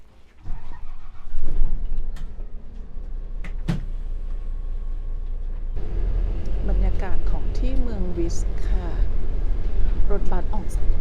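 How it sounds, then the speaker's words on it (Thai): A bus leaving Saas-Fee in the Swiss mountains rumbles with a steady low engine drone that thickens after a few seconds as it pulls away, with someone talking over it and small interior clunks. "นี่ให้ดูบรรยากาศของรถบัสค่ะ"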